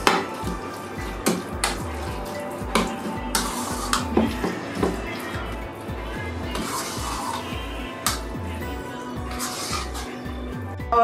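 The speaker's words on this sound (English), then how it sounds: "I'm going to mix now everything together, give it a good mix." Guacamole ingredients being mixed in a bowl, with repeated scraping and light clinks of a utensil against the bowl over a steady low background, brief clicks and knocks scattered throughout.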